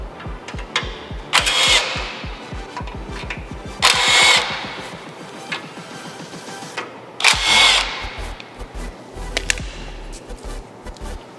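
Power tool removing the bumper bolts on a 2021+ Ford Bronco, heard as close, rapid mechanical rattling bursts with a few louder whirring spikes, separated by quieter pauses.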